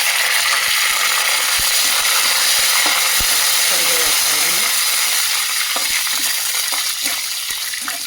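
Curry leaves drop into hot oil in a pan and sizzle with a loud, steady hiss, while faint ticks and clinks of stirring sound through it.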